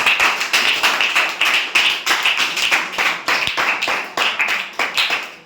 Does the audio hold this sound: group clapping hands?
yes